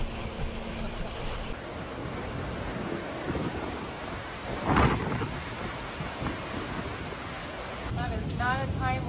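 A thunderstorm with frequent lightning produces rumbling thunder under a steady wash of rain and wind, with one sharper crack midway and voices near the end.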